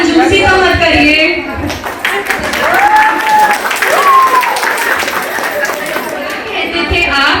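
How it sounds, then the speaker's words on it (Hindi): Audience applause at a 25th wedding anniversary celebration, steady clapping and crowd chatter running throughout, with singing and talk mixed in over it. "तालियां बजाने में कंजूसी तो मत करिए।"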